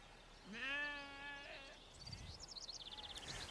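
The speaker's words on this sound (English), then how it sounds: "Bighorn sheep in their natural environment." Wild bighorn sheep on the American prairie give a long, wavering bleat in a quiet outdoor setting, followed by faint chirping birdlike calls.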